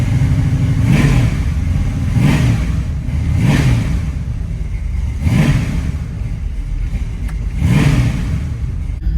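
A car blipped from idle to full throttle again and again, with five loud rising revs at a steady rhythm over a constant engine drone, recorded close by.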